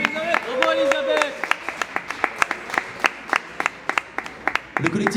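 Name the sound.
audience applauding young singer Elisabeth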